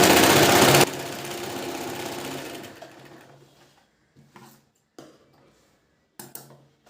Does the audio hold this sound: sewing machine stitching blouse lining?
yes